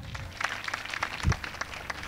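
Congregation applause during a church sermon, a small group clapping in an uneven patter of distinct claps, fairly close but modest in volume, with a low thump near the middle.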